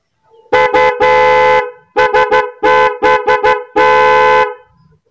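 A loud, close dual contact car-type horn fitted to a Bajaj CT100 motorcycle sounds in a series of blasts, some long and some short in quick succession, with nothing else heard between them.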